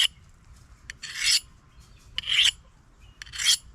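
A hunting knife blade is pulled through a small compact sharpener in three separate rasping strokes, close and crisp, each with a faint tap before it, in a quiet room with no talking.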